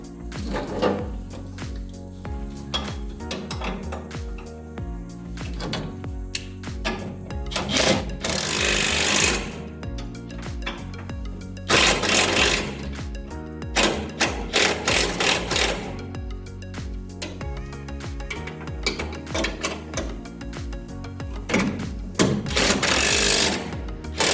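Power tool driving and tightening rear shock mount bolts on a C10 truck, with repeated bursts of buzzing impact-style rattling separated by short pauses, loud and close, no talking.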